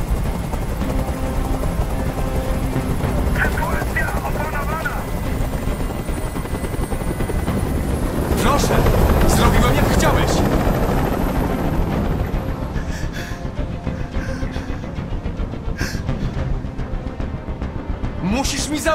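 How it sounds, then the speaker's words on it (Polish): Helicopter in the video game Detroit: Become Human, a loud steady rotor thrum and engine roar filling the scene throughout, swelling midway, with dramatic game sounds over it. "Każ swoim odwołać helikopter!"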